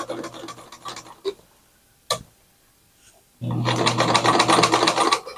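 Sewing machine stitching through a thick area rug, a short quiet whir and single clunk early on, then a loud steady mechanical run in the final two seconds, with no talk.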